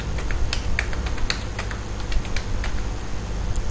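Keys on a computer keyboard are tapped to enter numbers, a sparse series of crisp, close clicks at an uneven pace over a low background hum.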